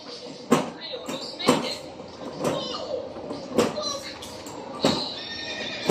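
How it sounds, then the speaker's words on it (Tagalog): A horse whinnies and snorts nearby in repeated bursts about once a second, mixed with stomping or clip-clop thuds, while people talk in the background. "This is a horse."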